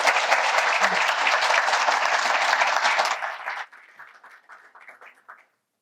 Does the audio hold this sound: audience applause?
yes